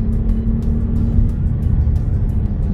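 A Mercedes E400 Coupé with the AMG package pulls hard on a road, its turbocharged engine sending out a loud, continuous low rumble that stays close and steady, with no voices over it.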